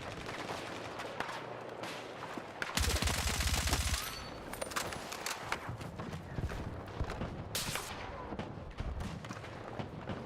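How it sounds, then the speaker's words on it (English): Gunfire rattles through a Battlefield 6 gunfight, with a loud burst of rapid automatic shots, scattered single cracks and a second short volley later on. "I just hear the bullets whizzing by me"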